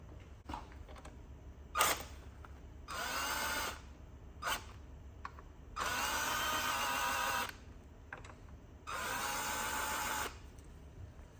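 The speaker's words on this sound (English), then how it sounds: "Tighten the accumulator housing screws and the stiffener plate to 120 inch-pounds." Power tool driving the accumulator housing and stiffener plate screws on a 4L60E automatic transmission, with four bursts of steady high whirring separated by quiet gaps and small clicks, close and fairly faint.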